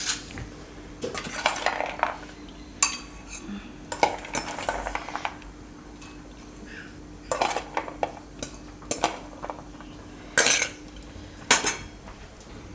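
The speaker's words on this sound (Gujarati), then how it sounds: "તો આ રીતની આપણે એક ખાંડણી લઈ એમાં ખાંડી લેવું." Spices being pounded by hand in a mortar and pestle, a series of sharp metallic knocks and clinks arriving in irregular bursts, close and fairly loud against a quiet background.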